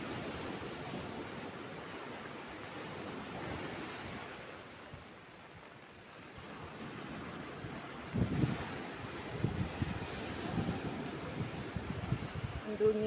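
Strong wind from a Hong Kong typhoon signal 8 storm roars and buffets the microphone in a constant rush near the sea, with heavier, gustier bursts toward the end.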